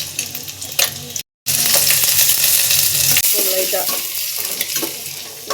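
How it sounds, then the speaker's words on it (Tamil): Ginger garlic paste frying and being stirred in oil for an egg parotta: a loud, steady sizzle with a brief dropout, scraping stir strokes, and someone speaking briefly over it. "இஞ்சி பூண்டு பேஸ்ட் போட்டுக்கணும் அந்த எண்ணெயில்"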